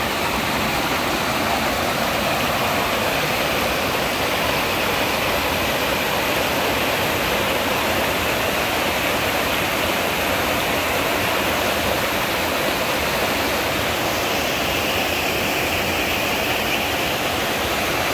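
Arnel Falls, a waterfall in Taiwan, roars as a steady, loud broadband rush of falling water, constant and close throughout with no voices.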